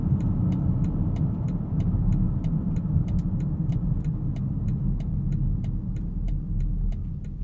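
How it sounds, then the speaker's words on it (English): A 2021 BMW X5 xDrive45e plug-in hybrid SUV accelerates at full throttle, its engine droning steadily and loudly from inside the vehicle, with a faint regular ticking running throughout. "That's about all you'll see at full throttle."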